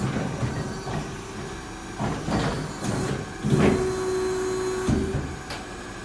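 A used Jorns Norma-Line CNC folding machine bends sheet metal, with a steady mechanical drone, a few sharp clanks and a brief whining tone from the press, all close by.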